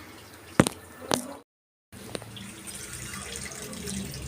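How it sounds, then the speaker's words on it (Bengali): Homemade hair oil being poured through a strainer, with two sharp clinks, a brief gap, and then a soft steady trickle and drip of liquid, close and quiet, with no talking. "তো চলো, ছেঁকে নিই তেলটাকে, একটু ঠান্ডা হয়ে এসেছে"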